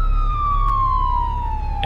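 A fire engine siren in the Nova Life video game holds a steady, loud, continuous wail that slides slowly downward in pitch, with low vehicle rumble underneath.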